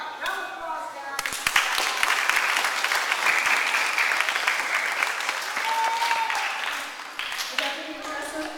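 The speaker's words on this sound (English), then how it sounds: "Round of applause," A short voice opens, then an audience breaks into loud, sustained applause with sharp individual claps, holding steady for several seconds before fading as talk returns.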